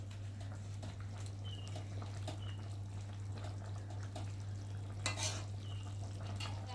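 Rohu fish curry with potatoes bubbling in a pan as it is stirred, with faint scraping and soft utensil taps over a low steady hum, and one louder scrape around the fifth second.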